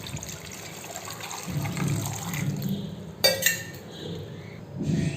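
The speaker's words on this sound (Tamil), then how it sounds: "தண்ணி கொஞ்சம் கிழங்கு மூழ்கிற அளவு ஊற்றிடுங்க" Water is poured into a pot of cut cassava in a home kitchen, making a low trickling fill with a sharp clink of metal midway and a few lighter knocks. Nobody talks.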